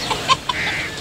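Chickens and roosters at a bustling Sunday bird market give a few short, close clucks and squawks over steady crowd murmur.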